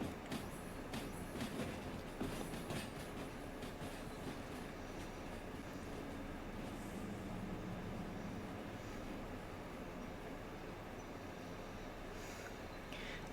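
Train rolling on rails in Derail Valley, a continuous loud rumble with rattling wheel clatter and occasional sharper clicks, steady and close throughout with no talking.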